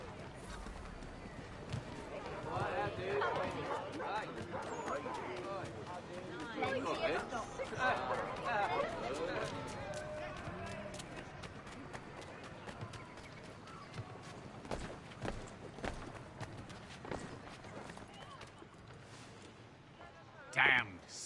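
Horse hooves clip-clop in Assassin's Creed 3, soft and irregular beneath ongoing character dialogue and faint crowd chatter in a city street.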